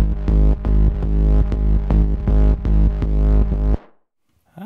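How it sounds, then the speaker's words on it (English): A Korg MS-20 synthesizer bass plays a loud, dense pattern of repeated plucked notes for almost four seconds, then cuts off and leaves a short quiet tail. "I have a bass sound here, it's from my MS-20"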